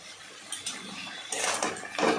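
Turmeric and food stirred in a wok while cooking bottle gourd greens with mung dal, a few soft metallic scrapes and clinks of a utensil against the pan, faint at first and then busier toward the end.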